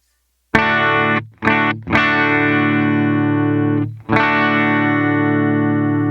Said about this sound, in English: if you do it too much, the guitar will be choked out, as you can hear here.